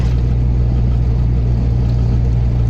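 A car that has just been repaired drives along toward a viaduct, its engine giving a steady, loud droning rumble from inside the cabin with no talk.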